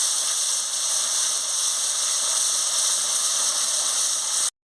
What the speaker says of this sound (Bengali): এই সব মশলাগুলো দিয়ে আমি কষিয়ে নিচ্ছি ভালো করে।